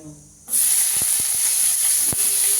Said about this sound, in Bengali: এবার এই পেঁয়াজ, টমেটো, রসুন এগুলো আমি একটু ভেজে নেব।